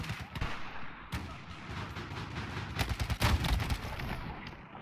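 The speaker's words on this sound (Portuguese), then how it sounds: "Um tiro queima a roupa, não matou." Point-blank gunfire in Battlefield 4, a Magnum-style handgun, with several sharp reports and bursts amid a dense, noisy battle din.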